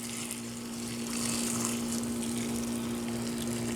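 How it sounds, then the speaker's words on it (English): Boiling water poured from a teapot makes a steady, continuous splashing stream at moderate level, accompanied by a constant low hum, with no talking. "we're going to add in the boiling water"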